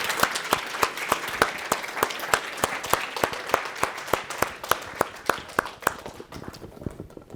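A graduation ceremony audience applauds undergraduates, with steady rhythmic clapping from a modest crowd and a few prominent close claps keeping time, thinning out toward the end.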